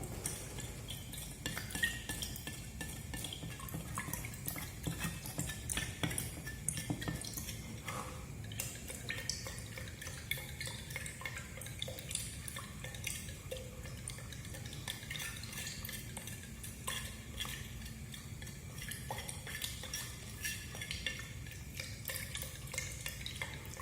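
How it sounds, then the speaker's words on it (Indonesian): Honey being stirred into room-temperature water makes soft, continuous swishing with faint spoon clinks and light liquid drips, close but quiet and steady for a long stretch, with no talking. "ini kita aduk-aduk terus sampai dia larut ya"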